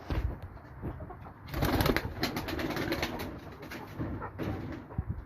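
Tumbler pigeons coo softly and repeatedly, close by, over a steady rustling outdoor background.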